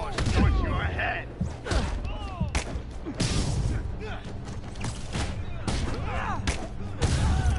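A Spider-Man video game battle is loud with booming blasts and dense gunfire-like bursts, thuds and crashes one after another. Voices talk beneath the chaotic action.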